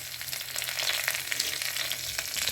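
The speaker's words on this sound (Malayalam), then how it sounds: "കടുക് പൊട്ടിക്കുക. പൊട്ടിച്ചതിന് ശേഷം കറിവേപ്പില ഇടുക." Mustard seeds splutter in hot oil in a pan while cooking brinjal curd curry, giving a continuous close sizzle scattered with sharp little pops and crackles, with no talking.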